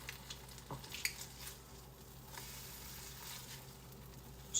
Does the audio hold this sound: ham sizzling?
yes